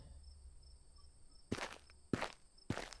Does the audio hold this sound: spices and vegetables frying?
no